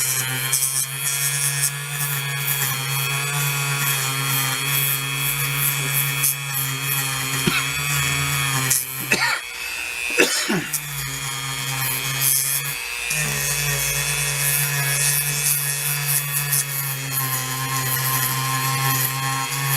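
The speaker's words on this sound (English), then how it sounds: "I'm going to use this Dremel tool with a little wear wheel." A Dremel rotary tool fitted with a small wear wheel whines steadily and close for a long stretch while roughing up a cracked surface, with brief dips in pitch as it bears down on the material.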